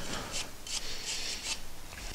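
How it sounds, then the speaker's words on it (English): A small wire brush scrubs the rear brake caliper bracket of a 2016-or-later Honda Civic in short repeated strokes, a quick rhythmic scratchy rasp heard up close with no talk. "I'm going to clean that out with a small wire brush"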